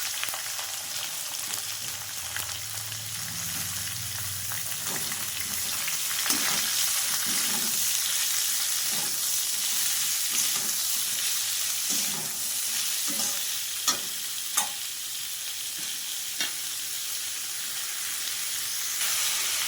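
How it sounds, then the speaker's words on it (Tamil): Green chillies and onions sauté in a hot oiled pan for a Bombay-style chutney, giving a steady close frying sizzle throughout with occasional stirring scrapes and clicks, no voices. "இப்போது பச்சை மிளகாய் ஆட் பண்ணிக்கலாம் அது கூடவே வெங்காயம் ஆட் பண்ணிக்கலாம்"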